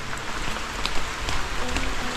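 Steady rain patters on a surface, a dense, even hiss of drops, close and continuous with no voices.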